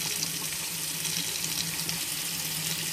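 Hot water runs steadily from a hot water heater tap fed through a homemade flat plate exchanger, a continuous close hiss and splash with a faint low hum beneath.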